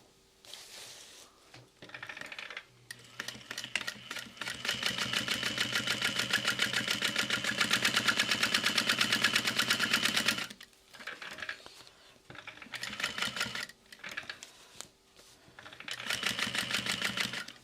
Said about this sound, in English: I'm going to sew that into place